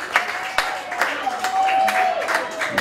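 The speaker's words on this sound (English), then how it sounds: "Everybody, give her a big round of applause." An audience applauds for Kathleen Hudson at a Texas songwriters' tribute evening, with steady mid-level clapping running through the clip alongside a sustained whistle-like tone.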